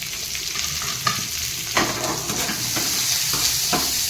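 Onion and carrot fry in a pan for a spicy small-fish curry, giving a steady close sizzle with occasional stirring scrapes and taps throughout, no voices.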